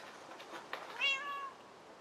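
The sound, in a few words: cat meowing in Minecraft video game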